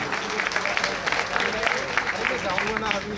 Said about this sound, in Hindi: उनका भी आप तालियों से स्वागत कर दें मेरे साथियों